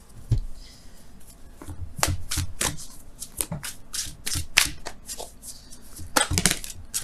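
Wisdom of the Oracle cards being shuffled by hand, a run of crisp flicks and riffles in uneven bursts, close and clear with no talking.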